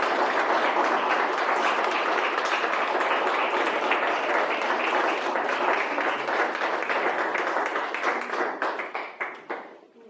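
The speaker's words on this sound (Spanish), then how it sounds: "Vamos a dar un aplauso al Señor aquí." A church congregation at a sermon applauds together, a full, even patter of many clapping hands sustained for several seconds before tapering into a few scattered final claps.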